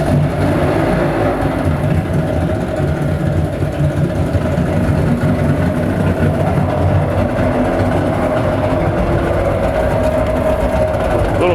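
A 2003 Suzuki 150HP two-stroke outboard with a 25-inch shaft idles in neutral while warming up in the Minnesota cold, giving a steady, close, unbroken engine drone with a low rumbling throb throughout.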